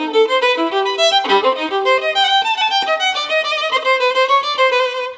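Violin playing fast Sârba Creață passages in minor keys at full tempo, a dense, continuous run of bright notes with steady rhythmic accents, close and solo.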